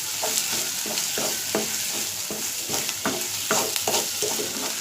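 Chicken roll filling sautés on a high flame, with a constant loud sizzle cut by repeated rhythmic scrapes of a spatula against the pan.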